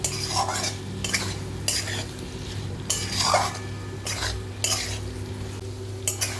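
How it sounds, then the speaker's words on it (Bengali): Fried yam and potato are stirred into a spice paste in a pan, with about six rhythmic scraping strokes of a utensil against the metal over a low, steady sizzle. "ওল আর আলু দিয়ে মশলাটা আবার একটু ভেজে নিতে হবে।"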